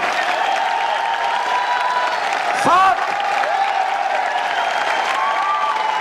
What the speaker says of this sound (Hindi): दस प्रोडक्ट में इतनी तालियां